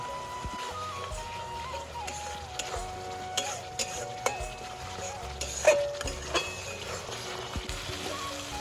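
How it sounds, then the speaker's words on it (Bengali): Masala of ground ginger, cumin, onion and green chilli sautéing in a pan for a Bengali prawn malai curry, with a steady sizzle, scraping stirs and light metal clinks close up, no speech. "তো এইদিকে মা হচ্ছে মশলা কষাচ্ছে, যেখানে আদা বাটা, জিরে বাটা, আরও পেঁয়াজ, কাঁচা লঙ্কা সব কিছু দিয়েই বানানো হচ্ছে এটা।"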